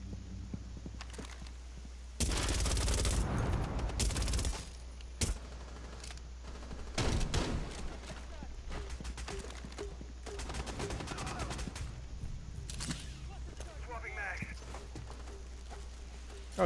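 Gunfire in the video game Rainbow Six Siege, loud bursts of rapid automatic shots in several clusters, mixed with bangs and game noise while a player talks over it.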